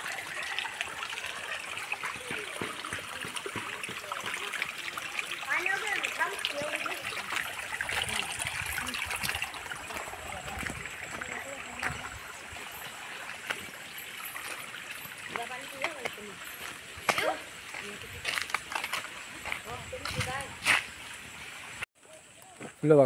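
Water trickles steadily into a garden pond in a cashew and almond orchard. The faint flow runs throughout beneath people talking, with a few louder knocks and splashes near the end.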